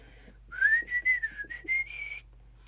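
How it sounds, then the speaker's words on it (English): A person whistles a short tune of several connected notes, rising and sliding in pitch, close and clear with brief breaths between phrases and no talking. "Says I can whistle it"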